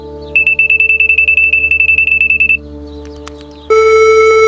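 A telephone rings close and loud with a rapid trilling burst lasting about two seconds, followed by a brief gap and then a steady, sustained electronic tone.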